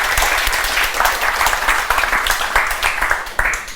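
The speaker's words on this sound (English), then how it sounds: "Volodymyr deserves an applause." An audience at a lecture event on the Ukrainian experience applauds, dense close clapping with scattered louder individual claps, sustained and fairly loud throughout.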